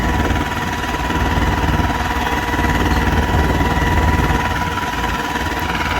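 Eicher 312 tractor running in second gear in a pulling contest, its diesel engine throbbing loud and near with a constant, slightly rough mechanical rumble throughout.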